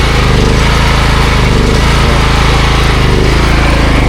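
A generator runs steadily at a house construction site, a loud, constant engine drone that holds at close range for the whole stretch, with no talking.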